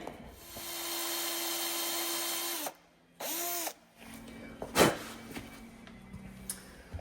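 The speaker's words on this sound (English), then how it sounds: "I'm just gonna take a 7/16 drill bit and get a nice clean hole going here" A power drill with a 7/16-inch bit whirs steadily for a few seconds, stops, then spins briefly again, followed by scattered knocks and handling noises.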